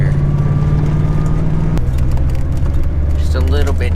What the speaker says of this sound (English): Just rev it up a little bit more, a little past that, a little bit more. Okay, now it should let you shift right into second.